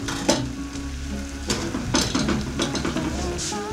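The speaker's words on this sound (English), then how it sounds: "you turn it gradually until you form a paste" Thick oat flour swallow paste is stirred and turned in a pot of boiling water, with scraping, soft slaps and an occasional clink of the utensil, close up.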